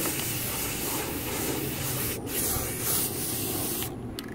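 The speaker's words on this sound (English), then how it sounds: "Spray paint." A continuous hiss from an aerosol can spraying silver paint onto cardboard, steady and close, with a couple of brief pauses near the end.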